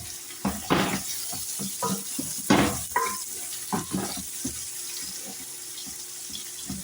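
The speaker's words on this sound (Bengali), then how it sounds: "গোশটা ভালো করে একটু ভাজি করে নিচ্ছি।" Meat frying in a pan: close, irregular crackles and stirring scrapes over a steady hiss of sizzling oil, with a soft background whine and no voices.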